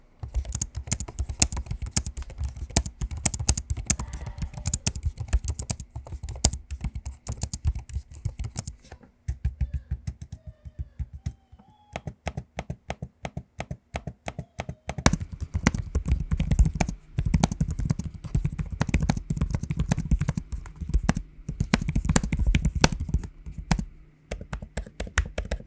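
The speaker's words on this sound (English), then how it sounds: "here's a quick audio sample of me using both keyboards and trackpads so you can hear what they sound like" Typing and clicking on Lenovo ThinkPad X1 Extreme and Legion 5i Pro laptop keyboards and trackpads: dense, rapid key taps in bursts, close and fairly loud, with short pauses between runs and no talking.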